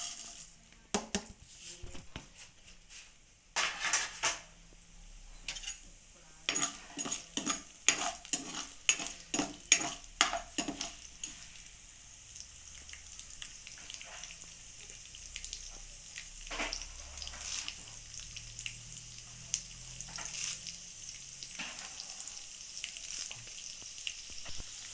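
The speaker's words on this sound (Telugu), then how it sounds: "ఆయిల్ వేడెక్కిందండి. ఈ పోపు వేసేసుకుందామండి ఇందులో." Spices for a ginger chutney tempering crackle and spit in hot oil in a kadai, a dense run of sharp pops early that settles into a steady close sizzle, with occasional clinks of a utensil.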